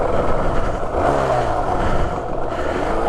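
A 1990 Yamaha R1-Z motorcycle engine runs close by with a steady, loud idle and a brief rise and fall in revs partway through.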